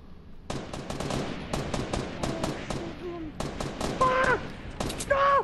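Rapid gunfire from a Fortnite Battle Royale match rattles out in quick, repeated bursts of sharp shots, fairly close, with brief tonal game effects sounding near the end.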